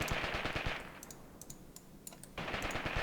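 Rapid machine gun bursts in the Graviteam Tactics war game rattle in fast, dense volleys, pause briefly with scattered distant pops, then resume at full intensity, all without talking.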